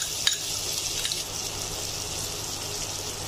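Chopped onions frying in oil in a village-style fish curry pan, a steady soft sizzle with a couple of sharp clicks and stirring sounds near the start.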